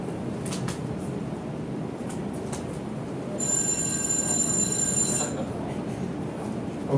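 An electric bell rings steadily for a couple of seconds over a noisy background with voices, then stops.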